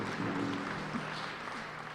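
Audience applause at a youth centre launch in Thunder Bay, soft and fairly distant, a steady hiss of clapping with a faint hum beneath and no speech on top.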